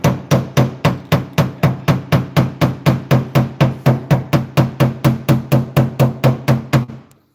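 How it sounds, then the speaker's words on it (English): A part being tapped into place with a hammer, about twenty-five loud, evenly spaced metallic knocks in a steady rhythm, close by and with no talk, ending abruptly. "So we're just gonna tap it in. Tap, tap, tap-a-roo."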